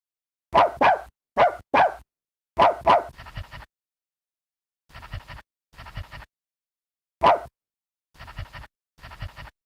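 A dog barks in repeated sharp bursts, a quick volley of loud barks followed by spaced pairs of shorter, softer ones with silent gaps between, fairly close and with no talking.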